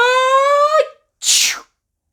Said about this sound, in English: sound of the sneeze is very common indeed in Coldland